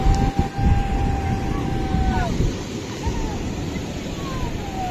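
Heavy surf washes in as a continuous rough roar at the beach by Swargadwar, with a crowd present, people talking over it and a whistle-like tone sliding through.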